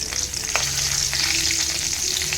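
A single chili drops into hot oil in a pan where potatoes were lightly fried, setting off a loud, close, steady sizzle with a few sharp crackles and spits throughout.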